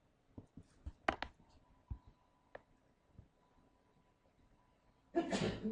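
A single sharp sneeze bursts out near the end, loud and close, after a stretch of quiet room sound with a few soft clicks.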